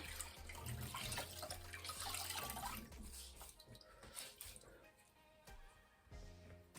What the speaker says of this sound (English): I just like to grab a face cloth and I like to get it wet.